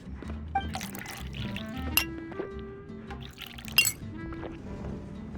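Juice pours into a glass in a video game, with a trickling liquid stream, several bright clinks of glass and faint drips, fairly close against quiet game background music, with no speech.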